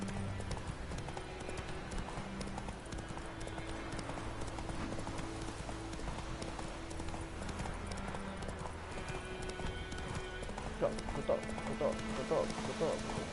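Horse hooves clip-clopping in The Witcher 3, a steady galloping rhythm over game music and ambience, with someone talking over it throughout.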